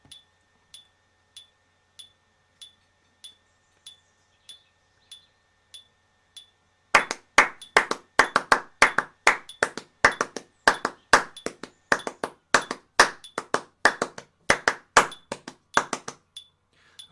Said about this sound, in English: I'm going to set the metronome going so you feel the beat, establish the beat, and then I'm going to try and clap the rhythm against the beat.